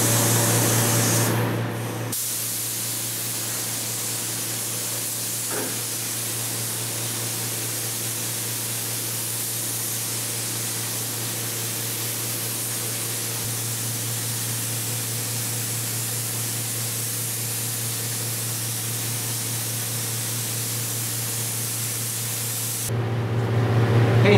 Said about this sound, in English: We're going to go ahead and spray inside of here because we want to really treat inside